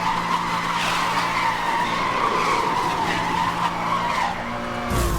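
A race car in Need for Speed: Hot Pursuit (2010) roars along at top speed with a steady, loud engine drone and skidding tire squeal, continuous and close, cutting off abruptly near the end.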